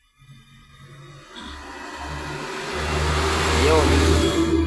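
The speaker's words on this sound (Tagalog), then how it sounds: "Ang ingay naman mga kapobre dahil may dumaan na namang malaking truck" A large truck passes along a roadside, its engine rumble swelling from quiet to loud and staying heavy by the end, with someone speaking briefly over the start.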